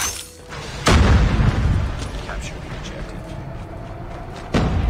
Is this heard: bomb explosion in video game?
yes